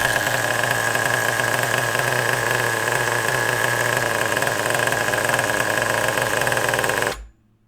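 Close up, a small RC nitro engine idles with a steady, buzzy, high-pitched drone that holds evenly for several seconds, then cuts out abruptly into silence.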